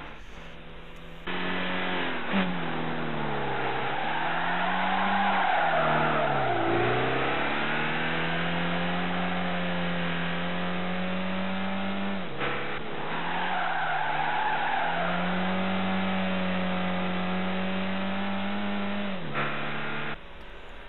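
A 1975 Volkswagen Golf being driven hard, its engine droning and rising and falling through revs while tires squeal in long skids, steady and close throughout with no talk.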